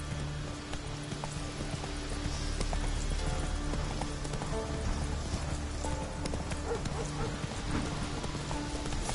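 A horse gallops in Witcher 3 with a steady clip-clop of hooves under faint outdoor ambience; a brief voice is heard over the hoofbeats.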